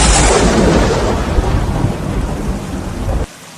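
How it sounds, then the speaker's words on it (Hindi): A sudden thunderstorm breaks out with a loud rolling crash of thunder over a heavy wash of rain in the open while goats graze, and the roar fades before cutting off abruptly. "बारिश शुरू हो जाती है।"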